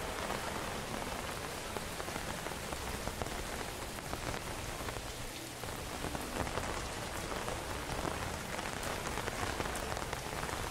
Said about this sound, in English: She sent us rain.